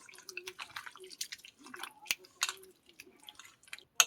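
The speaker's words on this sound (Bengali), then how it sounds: "সর্ষের তেল দিয়ে দেবো, দিয়ে এটা ভালো করে মাছটা আমি মাখিয়ে নেব।" Hands squish and mix fish with mustard oil and tomato paste, soft wet squelches and drips in irregular bursts, close and fairly quiet, with a sharp click near the middle.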